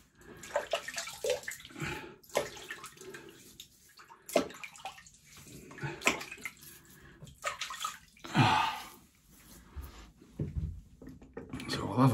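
Water splashing from a tap as a man wets his face before a wet shave, intermittent close splashes and drips in a bathroom, with someone talking between them.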